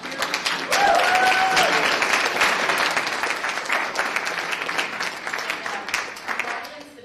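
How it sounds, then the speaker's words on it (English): Debate audience applauding two Senate primary candidates, a dense burst of clapping that swells in the first second, stays full and steady, then thins and fades toward the end. "please give both of these guys a round of applause"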